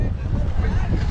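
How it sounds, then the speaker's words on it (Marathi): Strong gusting wind during a storm in Mumbai buffets the microphone near boats, a continuous low rumbling roar with steady turbulent noise. "अजून वारा वाढू शकतो"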